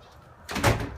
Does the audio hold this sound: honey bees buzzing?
no